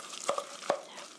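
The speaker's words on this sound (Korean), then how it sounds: "농도를 조정해야 되니까 섞어가면서" Flour batter for green chili pancakes being stirred in a bowl, a few soft scraping strokes with quiet gaps between them, close and fairly faint.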